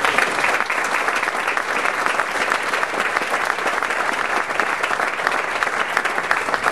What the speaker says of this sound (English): And they deserve applause just for that.